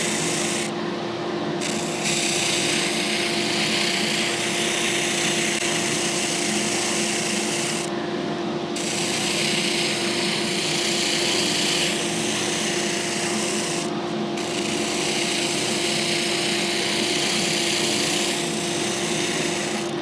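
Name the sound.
spindle sander running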